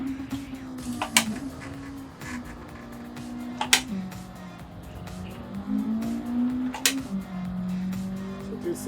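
A 1987 Honda Civic Si EF in Gran Turismo 7 spins its front wheels on a wet track, its engine droning and rising in pitch with tire squeal and a few short clicks.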